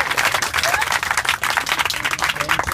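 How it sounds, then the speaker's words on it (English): Applause for sushi chef Travis Kamiyama at a beach event, with dense, steady clapping from a crowd that continues without a break for the whole stretch. "So if we can all give him a round of applause"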